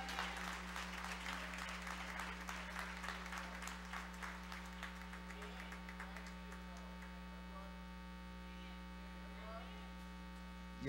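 A church congregation claps during a service, the spattering applause strongest at first and thinning out over several seconds, all over a constant loud electrical mains hum.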